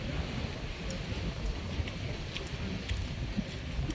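Strong wind buffets the microphone at the seashore, a steady roar of crashing waves beneath it, loud and continuous with no talk.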